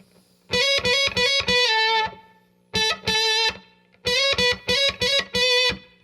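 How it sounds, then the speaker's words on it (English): An electric guitar played through a fuzz pedal, solo tone, bursts out in clipped, saturated phrases: quick choppy groups of notes with short pauses between them, loud and close. "So now hear it with the fuzz."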